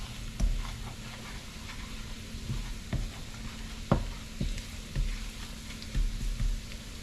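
Spices of black pepper, garlic powder and paprika frying in a pan for chana, a low steady sizzle broken by periodic clacks and scrapes of stirring, close and fairly quiet.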